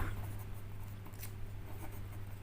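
A pen scratching across paper while derivative equations are worked out, faint, close, steady strokes with no talking, over a low electrical hum.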